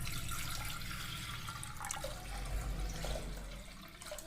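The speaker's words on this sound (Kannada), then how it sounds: "ಈ ಒಂದು ಚೊಂಬಲ್ಲಿ ಒಂದು 3 ಚೊಂಬಷ್ಟು ನೀರು ಹಾಕ್ಕೊತೀನಿ" Water splashes and pours from a mug into a small pressure cooker in a village kitchen, a steady close gush lasting the whole time.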